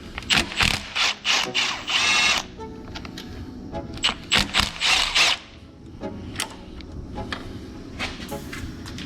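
Ratchet wrench clicking in bursts while bracket bolts are loosened under a Honda Civic, with rapid mechanical ratcheting runs, short pauses and faint background clatter, close and fairly loud.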